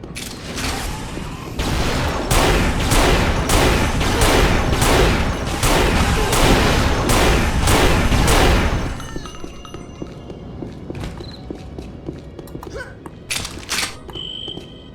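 Weapon fire in Unreal Gold crashes out in a loud, rapid burst of repeated shots for several seconds, then stops, leaving sparse quieter game effects and clicks.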